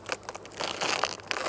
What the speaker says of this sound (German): Die Folie wird abgenommen.